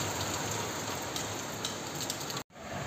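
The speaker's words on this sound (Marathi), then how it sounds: "हे बघा केवढा जोरात पाऊस चालू झाला आहे" Heavy rain pours down in a dense, continuous hiss of drops on surfaces, loud and close, cutting off abruptly for a moment near the end.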